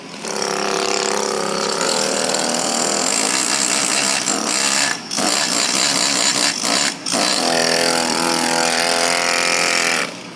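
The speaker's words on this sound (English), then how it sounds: "We just take a pneumatic hammer, chisel." A loud, continuous rapid hammering buzz of a pneumatic hammer and chisel carving stone rattles close by, briefly pausing twice before resuming steadily.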